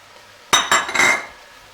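Carrots and sweet potato being stirred into a soup pot for tomato and lentil soup give a few sharp metal clinks of utensil against pot, about three quick knocks in a row, close and clear after near silence.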